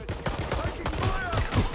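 Gunfire in the video game Watch Dogs: Legion: dense bursts of rapid shots crackle loudly and close throughout, mixed with shouting voices.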